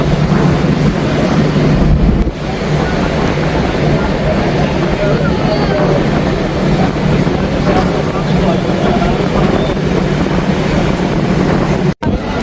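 Steady, loud wind buffeting the microphone during a boat ride on the lake at Montreux, a continuous broadband roar with water and engine rumble underneath and some voices mixed in.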